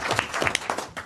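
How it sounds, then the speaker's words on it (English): Council meeting audience clapping for a group being honored, a short burst of applause with scattered individual claps mixed with faint voices. "let's give them all a round of applause"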